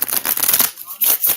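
Tarot cards shuffled in quick riffling bursts, a dense papery flutter in two runs separated by a short pause, close and fairly loud with no talking.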